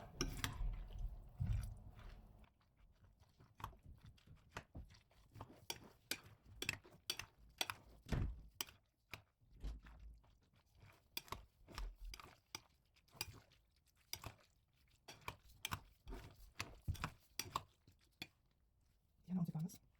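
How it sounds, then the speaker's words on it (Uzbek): A utensil works flour into a chicken, vegetable and cheese fritter batter in a bowl, making quiet, rapid, irregular clicks and soft taps that repeat closely for the whole stretch. "Yaxshilab aralashtiramiz endi hammasini."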